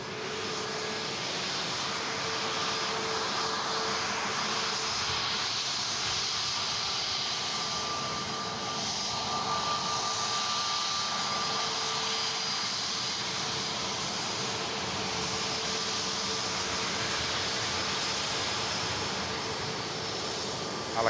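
A Ryanair jet airliner bound for Alicante lines up on the runway at Manchester Airport, giving off a steady, distant engine hum and whine that holds level for the whole stretch.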